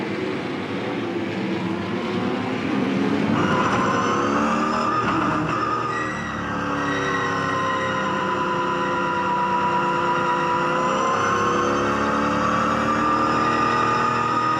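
V8 Supercars race cars circuit racing at Eastern Creek Raceway in 2007, a continuous roar of engines with shifting pitch as cars pass, heard at a moderate distance without talk.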